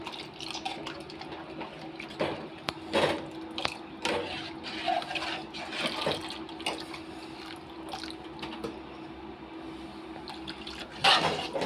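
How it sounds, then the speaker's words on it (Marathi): Milk is poured into partly cooked rice for kheer, making soft liquid splashes, trickles and drips in quiet, intermittent bursts. "तांदूळ थोडेसे शिजल्यानंतर दूध पण टाकून घेते."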